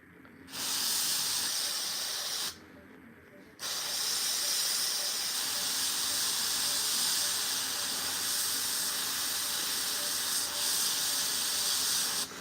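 Airbrush spraying paint onto a Warhammer miniature, a steady close hiss that cuts out briefly for about a second, then resumes and runs on evenly, with no talking.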